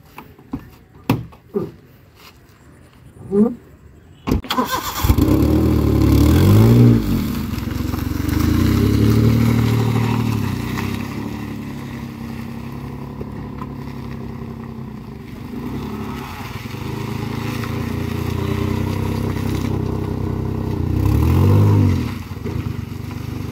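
A vehicle engine starts with an abrupt onset and keeps running loud and close as it pulls away and drives on, with rising and falling revs, on an outing to a Durga Puja fair in Ranchi.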